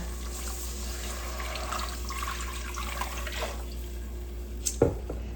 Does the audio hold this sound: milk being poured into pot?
yes